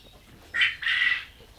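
Tithi-breed laying hens on a poultry farm in Jamalpur give two brief, fairly close clucking calls in quick succession against a quiet background.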